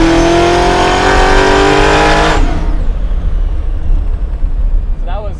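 Supercharged 750hp Chevy Nova pro-touring muscle car revving hard toward about 7,000 RPM, a loud close rising engine roar that cuts off sharply partway through, leaving rumbling idle and background noise.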